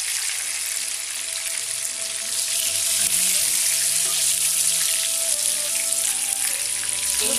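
Prawns frying in hot oil in a pan, a steady dense sizzle that runs loud and unbroken throughout with no talk over it.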